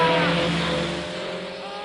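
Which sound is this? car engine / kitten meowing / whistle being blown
car engine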